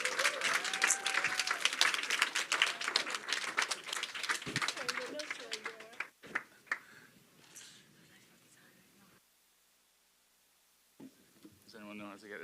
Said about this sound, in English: ask you to give a big round of applause to Gareth Maddock